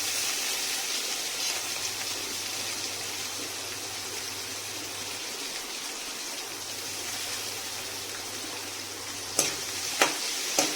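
Onions frying with whole spices in a pan for a mixed vegetable dish give a soft, steady sizzle at moderate distance, ending with a few sharp knocks of a utensil.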